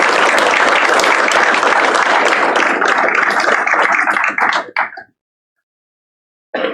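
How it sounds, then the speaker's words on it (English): Audience at a career and technical education letter-of-intent signing ceremony claps loudly and steadily for several seconds, then the applause breaks up into a few last claps and stops abruptly, followed by silence and a brief voice. "Let's give Matthew a round of applause."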